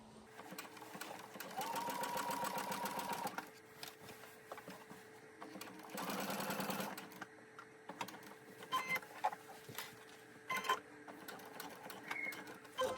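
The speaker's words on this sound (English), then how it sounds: "And we're going to sew all the way up to here." A sewing machine stitches a seam on wide-leg pants in two steady whirring bursts, the second shorter, separated by quieter handling of fabric and occasional small clicks.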